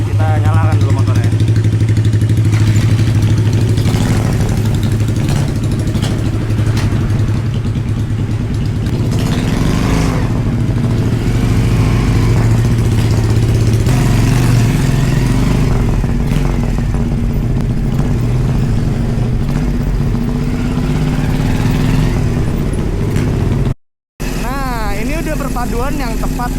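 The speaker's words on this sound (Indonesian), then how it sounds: "Kita nyalakan dulu motornya." A chopper motorcycle engine rumbles steadily at idle with low, throbbing pulses, loud and close, with occasional revs and a brief cut near the end.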